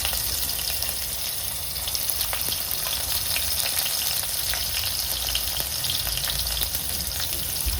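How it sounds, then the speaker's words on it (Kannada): Onions frying with whole spices in hot oil for a chicken chilli, a dense, even crackling sizzle that holds steady and close throughout. "ಆನಿಯನ್ ಸ್ವಲ್ಪ ಫ್ರೈ ಆಗಿ,"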